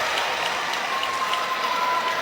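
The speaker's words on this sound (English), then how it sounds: "The crowd giving a nice round of applause for the Deadly Sins and Hammer." Steady crowd applause at an Ultimate Championship Wrestling event, a dense, even wash of clapping filling the arena without a break.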